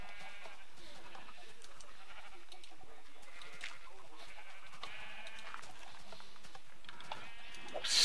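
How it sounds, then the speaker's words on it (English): Sheep bleats sound from the video game Minecraft amid a busy backdrop of game noise and clicks, with a person talking over the mix. "Stupid, stupid sheep."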